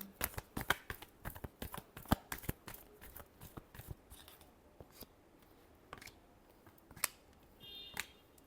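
Tarot cards being shuffled in a series of quick, crisp riffling snaps, dense at first and then thinning out to a few scattered flicks, close and fairly quiet, with no talking.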